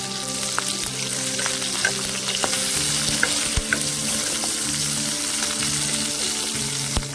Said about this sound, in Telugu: ఈ పచ్చిమిర్చి మొత్తం కూడా బ్రౌన్ కలర్ వచ్చేదాకా వేయించుకోవాలండి